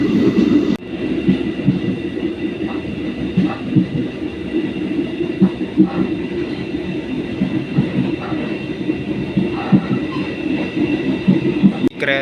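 Economy-class passenger train carriage riding late at night on the Blitar–Kertosono line, a steady loud interior rumble with rolling wheel noise and faint rail clatter throughout, no talking.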